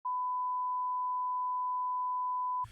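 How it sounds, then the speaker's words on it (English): A single steady censor beep, a pure electronic tone, holds loud and unbroken for about two and a half seconds, then cuts off into a brief burst of low rumbling noise. "Put a beep here."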